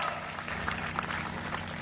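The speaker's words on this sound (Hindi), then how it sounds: "जोरदार तालियों के साथ" Applause from a village crowd at a Haryana election rally, a brief, dense burst of clapping heard fairly close and sustained throughout.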